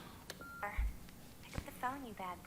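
A telephone rings in a scene from the film American Psycho, with electronic tone bursts and beeps heard alongside voices talking.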